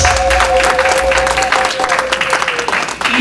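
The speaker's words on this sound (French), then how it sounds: "Vos acclamations." Audience applause and cheering at a Father's Day celebration in Ottawa, a dense steady wash of clapping from a crowd with a faint tonal whistle or hum running through it.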